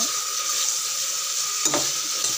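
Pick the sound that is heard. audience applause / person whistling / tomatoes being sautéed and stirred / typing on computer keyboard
tomatoes being sautéed and stirred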